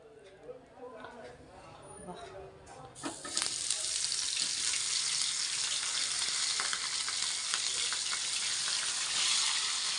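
Spices tipped into hot oil burst into a loud, steady hiss and crackle that holds to the end; someone speaks quietly before the sizzle begins.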